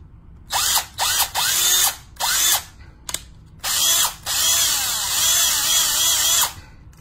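A TECCPO 20V cordless drill driver with a 1/2-inch metal keyless chuck whirs loudly and close in several short bursts, then one longer sustained run, with brief pauses of quiet between triggers.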